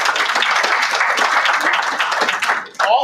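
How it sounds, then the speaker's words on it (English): Audience at a public lecture gives a loud, dense round of applause for event sponsors, steady clapping for nearly three seconds before it cuts off abruptly and a voice briefly begins. "So a big round of applause for all our sponsors."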